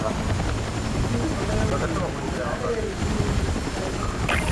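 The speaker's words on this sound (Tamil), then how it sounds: "ஹெலிகாப்டர்" A continuous low rotor drone of a helicopter in Battlefield 6 churns steadily throughout, with faint muffled voices and a few brief game-like tones on top.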